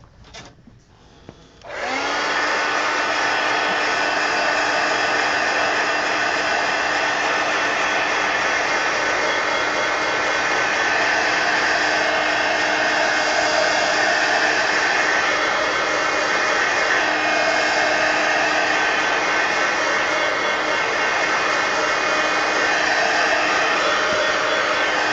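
A hair dryer switches on after a brief faint rustle and runs loud and steady, a constant close whooshing roar for the rest of the time, drying a coloring page.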